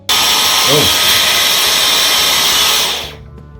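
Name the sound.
cordless vacuum cleaner motor revving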